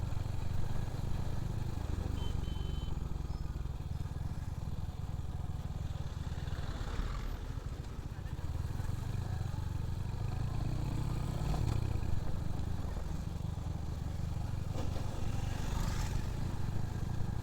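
A Royal Enfield Hunter 350 motorcycle rides through the city, its steady engine note rumbling low and continuous throughout, with faint clatter and road noise and no talking.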